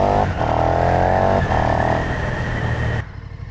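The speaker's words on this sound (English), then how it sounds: "there's a really nice bark from the engine. Look, from the exhaust" A 2020 KTM Superduke R 3.0 motorcycle sends out loud, close exhaust bark: two sharp revving surges, each with a brief dip between them, before the engine sound cuts off abruptly.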